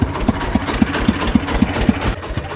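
A tractor-mounted DTZ FN-1.3 rotary tiller runs steadily while preparing garden soil for potatoes, giving a continuous mid-low engine drone with an even, regular knocking pulse repeating about every quarter second.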